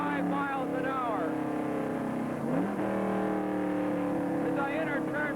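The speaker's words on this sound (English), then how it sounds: "We're going up the long straightaway by the pits now. I'm probably traveling 175 miles an hour." A lightweight Corvette Stingray races down the long pit straightaway at the 1964 Road America 500, its engine a loud sustained drone that rises and falls through shifts while someone talks over it.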